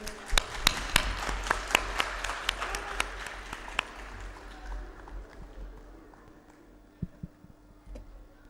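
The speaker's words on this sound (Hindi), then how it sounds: "जोरदार तालियां इनके लिए।" Audience applause at a welfare educational society award function, loud dense clapping with sharp individual claps that fades gradually over several seconds, leaving a few scattered claps near the end.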